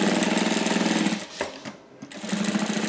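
A sewing machine stitches plastic trim onto a transparent vanity bag with cotton handles, a fast, close, rapid mechanical chatter that stops for about a second, then resumes at full speed.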